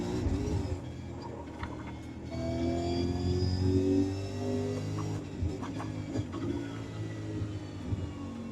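A V8 Supercar engine lapping Watkins Glen in the iRacing sim, a continuous whining drone whose pitch rises and falls through gear changes and throttle lifts, steady and unbroken with no talking.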